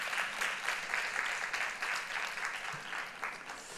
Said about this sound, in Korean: 다시 한번 박수 한번 치도록 하겠습니다.